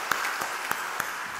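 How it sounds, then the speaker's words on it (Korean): A church congregation applauds during an ordination service for deacons. The applause is a steady, moderately loud wash of many hands, with a few sharper individual claps standing out above it. "박수하겠습니다."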